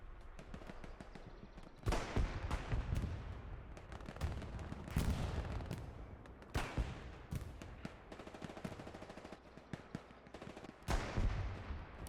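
Battle gunfire from tanks and anti-tank guns in the game Hell Let Loose, set in Hurtgen Forest on the Siegfried Line: heavy booming cannon shots every few seconds over constant crackling small-arms fire.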